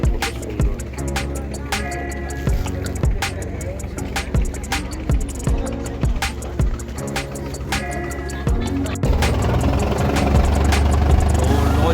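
Passenger launch boat pulling away from a river landing at Patharpratima in the Sundarbans, its engine a loud steady drone with sharp knocking clatter throughout, swelling into a heavier roar near the end.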